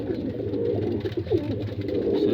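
Pigeons cooing steadily in a loft, several low soft coos overlapping in a continuous murmur with faint rustling, close and moderately loud with no talk.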